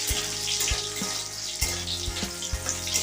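Cashews and raisins hitting a hot pan for carrot halwa, a steady hiss of frying with several distinct dull thuds and clinks spaced across it.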